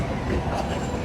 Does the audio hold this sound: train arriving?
yes